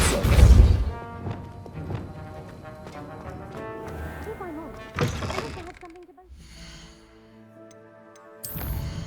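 A Depulso spell cast in Hogwarts Legacy gives a heavy thud with a crashing, shattering edge. A second impact follows a few seconds later, set among game music tones and character voices.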